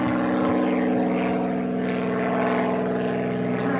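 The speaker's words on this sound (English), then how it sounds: "A plane, little plane flying over, having a look." A small propeller plane flies over the Wiltshire countryside at Chicksgrove, its engine droning steadily at moderate distance, a continuous buzzing hum with no talk.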